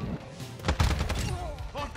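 A 5.56 rifle fires in the video game Modern Warfare II, a short cluster of rapid gunshots in a brief burst, with someone talking over the game sounds.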